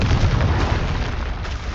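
Confringo fire spells in Hogwarts Legacy burst in a rapid string of loud, booming blasts that run together into one continuous rumbling roar.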